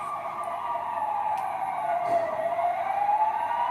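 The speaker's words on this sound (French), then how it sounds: "Au loin, on entend les sirènes des premières ambulances qui arrivent." Ambulance sirens wail, sweeping up and down in the distance, steady and continuous over a low rumble of traffic.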